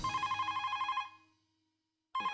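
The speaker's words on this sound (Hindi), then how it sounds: "उससे अच्छा है कि अब्दुल को ही फोन करूं।" Telephone ringing as a call is placed to summon an AC repairman, in a Taarak Mehta Ka Ooltah Chashmah comedy scene: a steady electronic ring tone for about a second, a gap of silence, then the ring starts again, with no talk.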